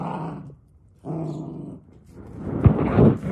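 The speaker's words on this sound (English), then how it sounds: "That's my dogs wrestling over there." Two dogs wrestle playfully nearby. Their deep rumbling growls come in bursts with short pauses, and a louder, rougher snarling flare-up closes the sequence.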